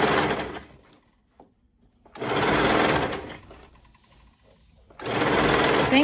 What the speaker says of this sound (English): Sewing it together, making sure that you don't catch your other fabric.